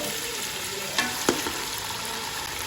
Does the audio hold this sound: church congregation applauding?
no